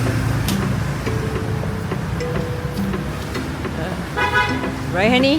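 Hanoi street traffic streams past with short honks scattered through the clip and a burst of overlapping horn beeps near the end, over a constant road rumble, while people talk briefly nearby.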